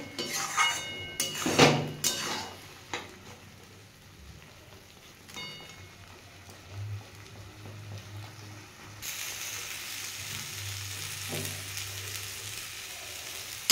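Moringa leaf mash is stirred in a pan, with a few scraping clatters early on, then a quieter, steady sizzle that grows a little fuller toward the end.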